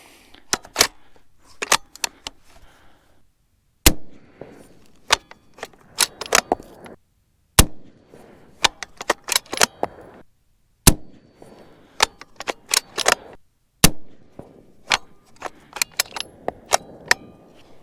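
A 6.5 Creedmoor rifle fires handloaded 130-grain ELD-M rounds loaded with RL17 and IMR4350 powder. Sharp, loud cracks repeat at irregular intervals, with quieter clatter between them.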